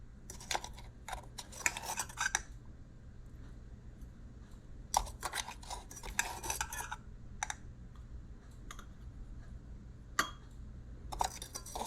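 A metal spoon scoops ground coffee into an Easyworkz Diego moka pot, giving repeated light scraping and clinking bursts in close, quiet clusters with short pauses between.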